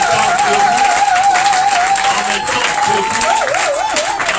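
A standing church conference congregation applauds and cheers loudly for a visiting pastor, a dense, sustained crowd roar with a wavering sung or whistled tone riding over it throughout.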